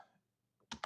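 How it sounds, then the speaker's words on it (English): A few quiet computer keyboard keystrokes while typing a command in a command prompt, two distinct clicks near the end after near silence, close and faint. "type the command"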